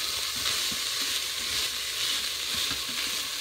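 Garlic sizzles steadily in a hot Instant Pot for a pumpkin chili, a dense, even frying hiss with faint stirring scrapes and no talk.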